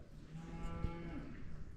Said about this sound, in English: And the cows are calling me.